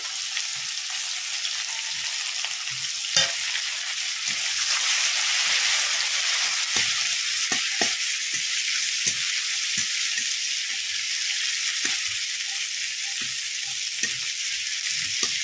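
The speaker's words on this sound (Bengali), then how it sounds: "তেলের মধ্যে পেঁয়াজ কুচি দিয়ে দিচ্ছি, আর দিচ্ছি ছোট করা রসুন" Chopped onion and minced garlic frying in hot oil, a dense continuous sizzle with occasional stirring clicks and scrapes throughout.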